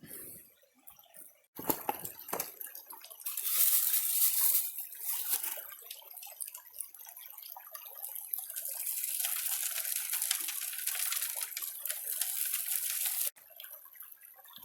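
Water rushes and splashes steadily through a gold sluice box as a bucket of gravel is washed. The flow is loud and continuous, with brief quieter moments near the start and end.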